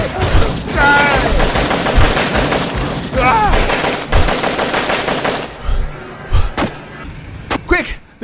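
Rapid bursts of machine gun fire, a sound effect, rattle loudly in dense repeated volleys for about five seconds, then thin out into scattered single shots with a faint voice underneath.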